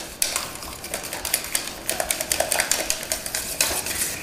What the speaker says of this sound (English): I'm gonna pull it off the heat and continue whisking it until it becomes completely smooth and beautiful